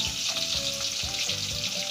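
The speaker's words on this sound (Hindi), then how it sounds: "अब हम डाल देंगे कढ़ाई में मिर्च, अदरक, लहसुन," Chillies, ginger, garlic and carrot sizzle and fry steadily in a hot wok, a dense continuous crackle with scraping stir strokes, close and loud, with no talking.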